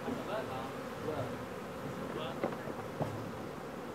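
Bees buzz steadily at close range while honeycomb frames are pulled from wooden hive boxes during a cajuput honey harvest, with a couple of short knocks and clicks from handling the frames.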